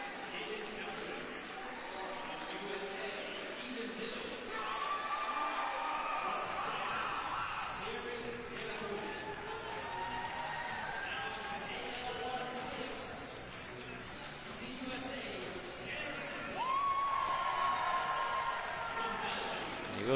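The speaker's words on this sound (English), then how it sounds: "You can hear the support from the crowd as well in the background." Crowd cheering for para climbing athletes at a competition finals in Salt Lake City, a faint murmur and scattered cheers in the background beneath continuous commentary.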